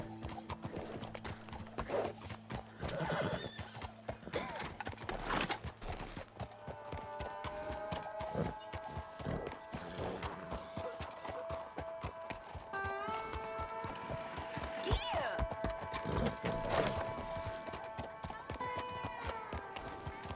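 A horse gallops in the video game Red Dead Redemption 2, its hooves beating out a steady, rhythmic clip-clop, with music playing underneath and a short whinny.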